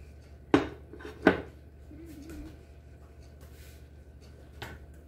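Two sharp clinks of a bowl handled in a home kitchen, close and brief about a second apart, followed by quieter faint clatter and a final soft knock.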